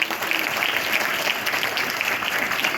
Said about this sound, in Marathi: टाळ्या विद्यार्थ्यांनी